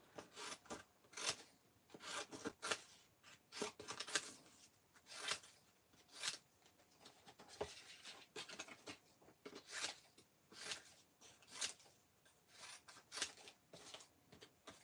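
Scissors cut down the uneven edge of a sheet of paper with a series of quiet, close snips and rustles coming in irregular bursts, with no voices.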